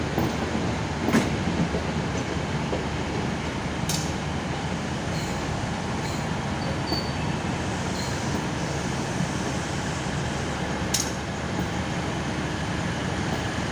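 A train rumbling at a rail depot as its carriages are shunted before the Taksaka executive service departs, a steady broadband rolling noise with a few sharp metallic clicks and squeals over it, no voices.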